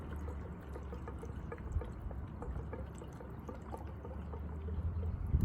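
Fuel pours into the small gas tank of a WeedEater FB25 leaf blower, a steady close trickle and splash with faint drips, running alone throughout.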